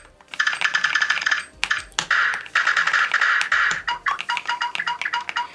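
Keystroke sound effects play on a Skyloong GK104Pro keyboard: rapid bursts of bright, tinkling clicks in quick runs separated by brief pauses, close and clear with no talk.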